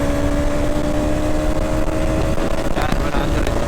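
KTM Duke 200 motorcycle pulls hard uphill, its engine note holding steady tones then rising as it accelerates, heard from the rider's position with wind noise around it.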